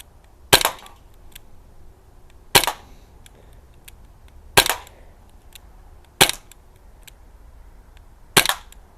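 Crosman Mako air rifle firing at targets outdoors, five sharp separate cracks spaced about two seconds apart, loud and near with quiet between shots.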